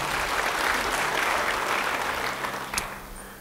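A congregation at a church service claps together in a steady burst of applause, moderately loud at first and tapering off over a few seconds, with one sharp clap standing out near the end.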